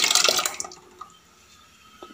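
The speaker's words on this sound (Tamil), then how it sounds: "நமக்கு தேவையான அளவு தண்ணி ஊற்றிக்கலாம்." A short burst of water splashing and pouring into a cooking pot, loud at first then cutting off, followed by faint drips and quiet.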